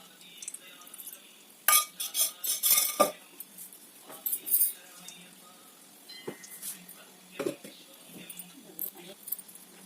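A spoon clinks and scrapes against a vessel while four spoonfuls of cooled, melted ghee are added, producing irregular bright metallic taps in short bursts close by, with soft background noise and a few faint murmurs.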